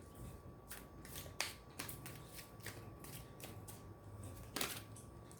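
Tarot cards are handled close up: a series of crisp riffling and snapping flicks as cards are shuffled and pulled from the deck, irregularly spaced, quiet overall with a steady background hum and no talking.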